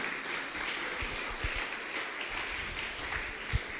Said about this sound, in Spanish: Dale un fuerte aplauso al Señor si usted lo cree